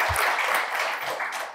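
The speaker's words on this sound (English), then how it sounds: "So can we just give them a round of applause?" Audience applause after a conversation with photographers Jim Alexander and Tom Dorsey, a short steady burst of clapping across the room with a low thump near the start.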